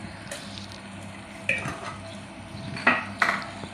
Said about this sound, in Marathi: ते टाकून चांगलं हलवून घ्यायचं